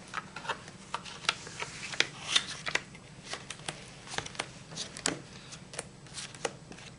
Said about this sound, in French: Tu fais trois tas de trois cartes.